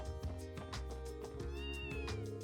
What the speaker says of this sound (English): Oops, we have the kitten with us.